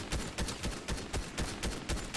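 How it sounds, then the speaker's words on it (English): Fortnite gunfire in rapid bursts, about ten sharp shots at a quick, slightly uneven rhythm, loud and close with no talking over them. "I think someone else is shooting"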